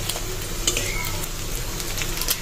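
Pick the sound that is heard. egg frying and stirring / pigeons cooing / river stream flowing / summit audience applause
egg frying and stirring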